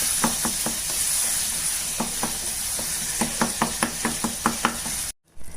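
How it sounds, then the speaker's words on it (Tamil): Parotta salna masala sizzling in a hot pan with a little water, with a rhythmic series of spatula scrapes and clacks over the hiss, then an abrupt cut. "இப்போ இதுலேயே கொஞ்சம் நம்ம தண்ணி சேர்த்து இதை நல்லா நம்ம வதக்கிக்கலாம்"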